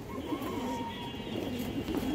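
Healthy domestic pigeons coo in a low, continuous murmur, several birds close by and moderately loud, with no talking over them.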